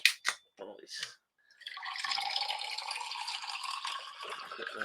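Sauce pours from a bottle in a steady, close liquid stream for a few seconds, preceded by brief clicks and handling noises.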